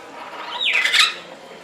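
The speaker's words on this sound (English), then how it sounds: "there's a bunch of parrots everywhere" A single harsh parrot squawk at a bird park cuts through quiet background, a brief rasping cry sweeping downward in pitch, fairly close.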